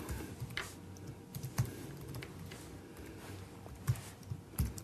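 Computer keyboard keys tapped in short irregular bursts, quiet and close, with a few heavier clicks standing out against a faint room hiss.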